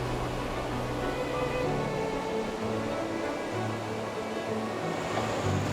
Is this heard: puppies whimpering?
no